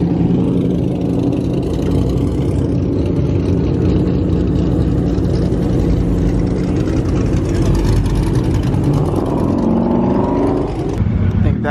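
A cammed Dodge Hellcat with a wide body revs its engine at a large car meet, a loud continuous rumbling drone that rises toward the end, with crowd noise and people talking around it.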